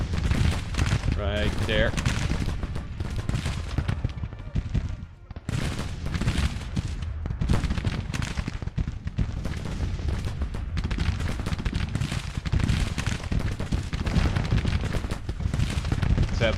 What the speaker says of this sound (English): Let's go ahead and do some counter battery fire.